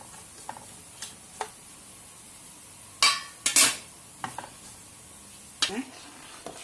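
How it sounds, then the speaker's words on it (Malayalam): A spoon stirs payasam with cashews in a pan, giving sparse, faint clinks and scrapes with a few louder knocks against the metal in a quiet kitchen. "നമുക്ക് ഇളക്കാം."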